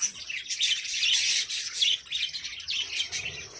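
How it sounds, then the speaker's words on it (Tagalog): Pet lovebirds kept indoors chirp rapidly and continuously, with a close, shrill chatter of overlapping high tweets and squawks and no talking. "Lovebirds. They're so cute, colorful,"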